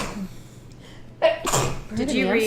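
An abrupt sneeze bursts out amid a conversation between several people, one sharp, loud burst followed right away by continued talking.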